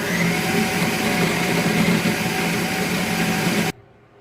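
A blender whizzes dates into a sticky mixture for raw vegan chocolate snowballs, giving a loud, steady, close whirring drone that cuts off abruptly near the end.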